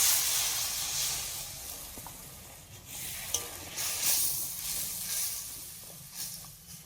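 Spiced paste for shukto being stir-fried in a pan, giving a steady soft sizzle with scattered scraping stirs that brighten and fade over several seconds, fairly quiet and with no talking.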